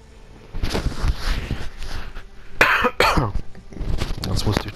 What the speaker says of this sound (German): Jetzt musste ich doch mal wieder husten.